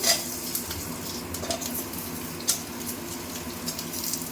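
Garlic and onion frying in a little oil for spinach chutney, a soft steady sizzle with occasional light clinks of a stirring spoon against the pan.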